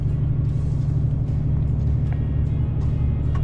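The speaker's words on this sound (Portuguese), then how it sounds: "Ó, vou subir um pouquinho o giro aqui, ó." A DAF truck's diesel engine revs up on a mountain descent during engine braking, a loud steady low rumble with a faint rise in pitch, close and continuous, no voices.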